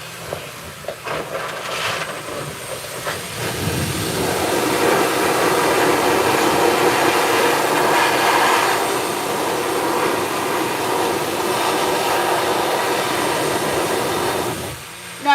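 A high-velocity pet dryer blasts air across the heavily matted coat of a Persian cat, a loud, steady whooshing roar that starts almost at once and holds for about fifteen seconds before cutting off.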